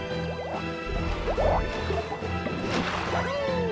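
Water flood rushing in the Super Mario Galaxy video game, a steady splashing wash of liquid with dripping and sloshing accents and a few brief whooshing game effects.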